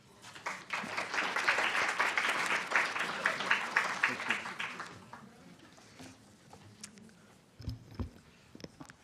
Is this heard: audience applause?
yes